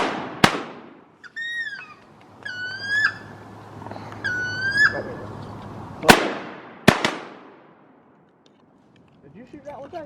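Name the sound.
shotgun shots fired at wood ducks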